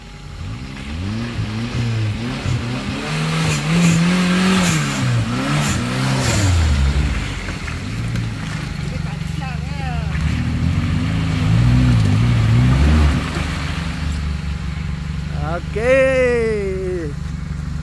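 A vehicle engine idles and rumbles continuously nearby, occasionally revving, while people talk over it.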